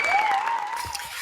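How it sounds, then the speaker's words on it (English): A studio audience claps for a talk show guest: steady, dense applause that carries through the whole moment at a fairly loud level, with no speech over it. "You must have heard about my guest, and that's why you're clapping."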